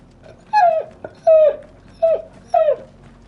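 A dog whimpers indoors in four drawn-out, falling whines, each about a third of a second long, close and fairly loud with short pauses between them.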